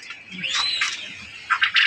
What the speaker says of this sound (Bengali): কত ছটপটা কবুতর।